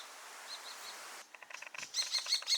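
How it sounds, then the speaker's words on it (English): Kestrels call near their nest on a Finnish farmyard in summer, a few thin high repeated chirps, then a louder burst of rapid calls mixed with faint clattering. "I think these birds are Kestrels."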